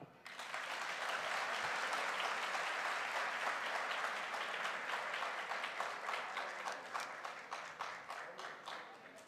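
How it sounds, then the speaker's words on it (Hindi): An audience at a direct selling motivational event claps steadily. The applause holds full and dense for several seconds, then thins into scattered claps as it fades. "तालियां।"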